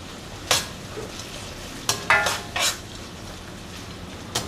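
Tomatoes with turmeric sautéing in a pan for rava upma, heard as a few sharp utensil scrapes and clinks against the pan over a faint, low sizzle, with quiet gaps between the stirring strokes.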